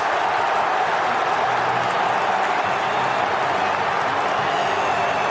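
A sellout crowd at the Swansea.com Stadium roars and applauds after a goal in a football match, a broad, continuous wash of distant cheering and clapping filling the whole stretch without letup.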